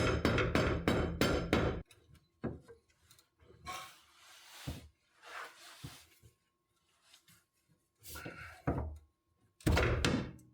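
Several heavy knocks and thuds of a hammer and crowbar striking and prying at something, irregular and fairly close, with scrapes and creaks between the impacts.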